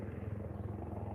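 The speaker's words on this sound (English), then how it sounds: "Hearing that helicopters." Helicopter rotor noise played back from a recording, a steady low throbbing drone with rhythmic chopping pulses, fairly quiet and continuous with no talk over it.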